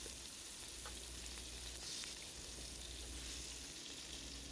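Squid meatballs fry in hot oil with a dense, steady crackling sizzle that fills the whole stretch, close and continuous with no voices.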